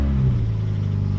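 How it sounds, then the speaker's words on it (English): A Toyota Yaris engine idles with a low, steady rumble right after starting, close and fairly loud, with no voices. "See how long it cranks to start."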